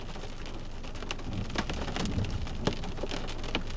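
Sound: rain mixed with some hail during storm

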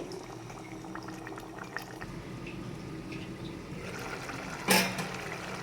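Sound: ridge gourd curry simmering in milk

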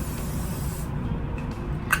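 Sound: rose-scented makeup setting spray being sprayed

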